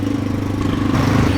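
A rickshaw engine revs up as its clutch is slowly released, a steady, loud, close mechanical drone that rises slightly in pitch toward the end.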